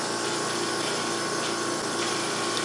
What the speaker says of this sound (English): Sorry about that noise. I'm right by the dehumidifier.